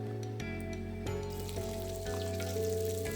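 Eggplant and flat beans fry together in a home kitchen pan, giving a steady close sizzle with faint crackles that runs unbroken and alone.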